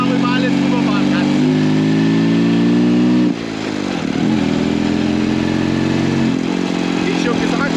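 An overweight Wehrmacht BMW R75 sidecar motorcycle rumbles loud and close while riding, its engine drone dipping briefly mid-clip before settling back, with someone talking over it.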